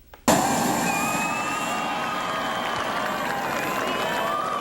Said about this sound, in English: greeted by a crowd of around 200 cheering people as their plane arrived at Long Island MacArthur Airport